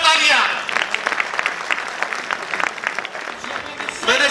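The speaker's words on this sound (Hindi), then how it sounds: "बहुत तेरे की जोरदार तालियां।" Loud, dense applause from an audience at a stage event fills the stretch without a break, with a voice heard briefly at the start and again at the end.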